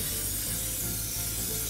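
Cooking oil is sprayed into an air fryer basket before salmon goes in, making a steady, close, unbroken hiss that lasts throughout with no pauses.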